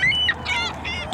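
A duck gives loud, nasal honking calls close by, several quick squawks in a row, with no one talking.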